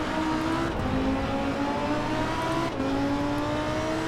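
A Lamborghini Huracán SVO engine drones loudly and steadily at high revs on the Nordschleife track, pitch rising slowly and briefly dipping twice as gears change, close and continuous.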